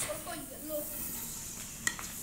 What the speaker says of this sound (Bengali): বাকি চিপসগুলো আমি ভেজে নেব, দেখতেই পাচ্ছেন কত সুন্দর হয়েছে